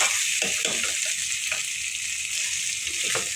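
Hot oil sizzling and crackling steadily in a pan, with scattered pops and a soft stirring clatter, close and continuous for a few seconds.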